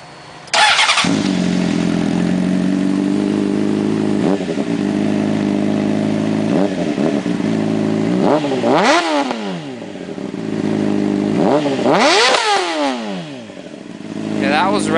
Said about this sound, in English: now we're going to start them up and we're going to rev them one at a time